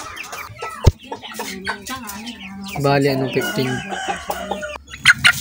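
A black-feathered chicken clucks close by in a backyard setting, with short throaty calls rising and falling while someone speaks over it.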